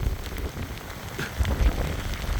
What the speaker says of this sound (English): And the youngest got the lead, and it's raining out here.